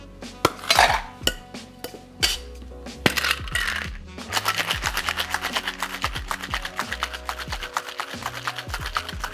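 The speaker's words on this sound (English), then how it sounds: "And I'm gonna give it a shake." A metal cocktail shaker tin is handled with a few sharp clanks, then shaken hard with ice, giving a fast, steady rattle of cubes hitting metal that runs to the end.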